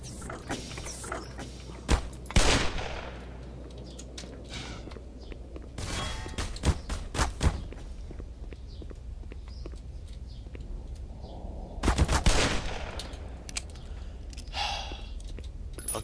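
Scattered gunfire in the video game Black Mesa, a few sharp bursts of shots spaced several seconds apart, with quieter clicks and rustles between them.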